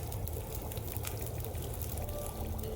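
Water being poured and heated in The Long Dark video game, a steady soft pouring and bubbling wash that holds at an even, moderate level throughout with no talk over it.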